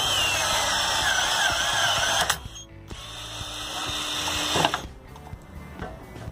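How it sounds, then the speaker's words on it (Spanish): A Ryobi cordless padlock cutter whirs loudly for about two seconds, drops quiet, then runs again in a second motorized cutting burst before falling silent. "Giramos y cortamos. Y vamos a cortar."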